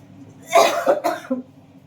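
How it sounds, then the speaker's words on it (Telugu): A person with a lingering cough lets out a short burst of several close, sharp coughs in quick succession, then the sound trails off into silence. "దగ్గు ఇంకా తగ్గలేదండి నాకు"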